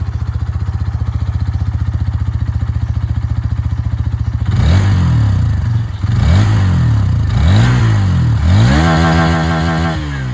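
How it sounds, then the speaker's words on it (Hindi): A 2024 Hero Xtreme 160R 4V motorcycle idles close by with a steady, even exhaust thump, then revs in four quick throttle blips that rise and fall, loud and alone. "यहाँ पर जो एग्जॉस्ट साउंड है वो भी आप लोग सुन लीजिए"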